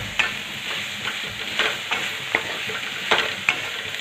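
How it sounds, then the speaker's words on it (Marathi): Finely chopped colocasia leaves being stirred and fried in a spiced tempering: a soft, steady sizzle broken by irregular sharp scrapes and taps of a spoon in the pan, with no talking. "आता त्यामध्ये जे आपण अळूचे पानं आपण बारीक चिरून घेतले होते ना ते यामध्ये टाकून या फोडणीमध्ये टाकून असे मिक्स करून घ्या"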